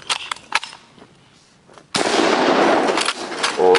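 A sniper rifle in a shooting video game fires one loud, sharp blast that rings on for nearly two seconds, following a few lighter clicks and handling sounds.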